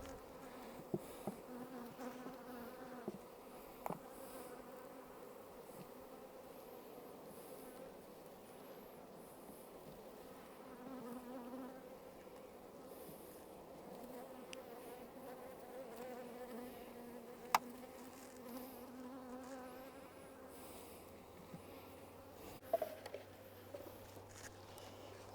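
Honeybees buzz around an open hive during a spring inspection, a soft continuous hum close by with occasional light knocks and clicks of frames being handled.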